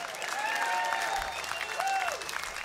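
Live concert crowd applauding and cheering at a 2005 rock show, a steady dense wash of clapping with whistles and shouts throughout.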